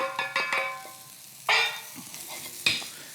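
Spring onions, ginger, garlic and chili hit a hot pan with sharp bursts of sizzling, then frying crackle as they are stirred about, a couple of louder flare-ups standing out against quieter spitting.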